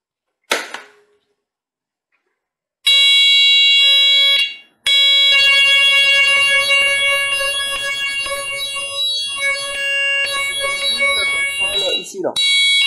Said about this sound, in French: si je déclenche un PPMS, absolument tous les buzzers et haut-parleurs vont faire le son PPMS